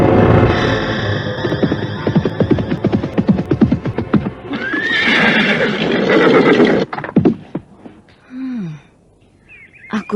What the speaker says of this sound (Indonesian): Aku mendengar derap kaki kuda.